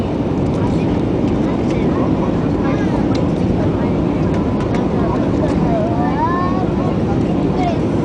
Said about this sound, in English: We're definitely landing. Yeah, we're coming into land now.